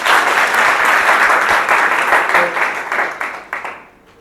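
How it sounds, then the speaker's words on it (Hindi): Students and staff give a loud welcoming applause for principal Shri Chandrabhushan at an institute gathering: dense, sustained clapping that holds steady, then thins and fades away over the last second. "आज इनका जोरदार तालियों से स्वागत किया जाए"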